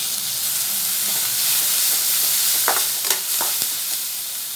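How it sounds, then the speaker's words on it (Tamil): Onions sautéing with salt in a pan for a Tamil buttermilk curry give a steady hiss and sizzle, with a few sharp stirring clinks and scrapes near the end. "வெங்காயத்துக்கு தேவையான அளவுக்கு கொஞ்சமாக சால்ட்டு போட்டு வதக்கிக்கலாம்"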